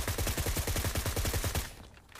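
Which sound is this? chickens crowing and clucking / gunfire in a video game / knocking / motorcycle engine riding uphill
gunfire in a video game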